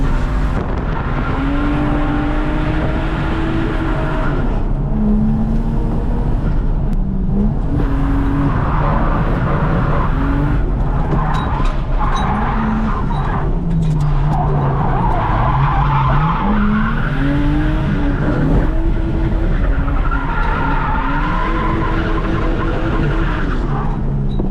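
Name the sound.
turbo Lexus IS200 drifting with tires skidding on track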